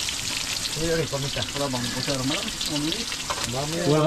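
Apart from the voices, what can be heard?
snails being sautéed, sizzling in a pan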